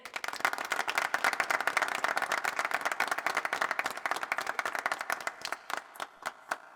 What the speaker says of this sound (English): give a well-deserved round of applause to those who have helped you on your journey